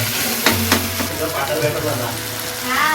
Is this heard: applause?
no